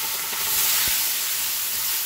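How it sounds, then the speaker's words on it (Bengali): Onion, garlic, tomato and chili paste frying in a wok with black cumin and bay leaf, a steady broad sizzling hiss held close and fairly loud, with a couple of soft clinks, no talking. "তাই সবজির মশলাটা একটু ভাজা ভাজা করে নিই"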